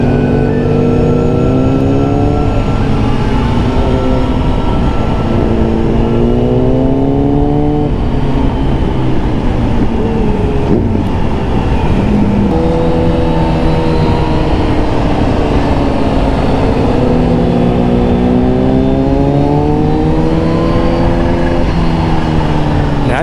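A Kawasaki ZX-10R motorcycle engine on a mountain road, revving loud and close with rising and falling pitch sweeps as it accelerates through the gears over a steady roar of wind.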